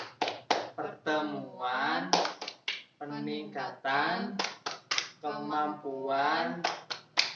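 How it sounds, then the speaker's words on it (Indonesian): A group of mothers in a family-support session claps a rhythmic chant together, with sharp claps falling between loudly chanted words in a close, quiet room. "mari kita tepuk P2K2 bareng-bareng ya Bu"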